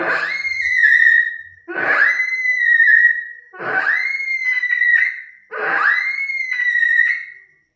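A student imitates a horse's whinny with his voice, four drawn-out, quavering high calls with short breaks between them, close and loud, with no other sounds.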